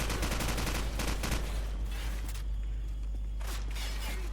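Rapid gunfire bursts in Call of Duty 4 Modern Warfare, dense automatic shots during the first seconds, a brief lull, then another burst, loud and close.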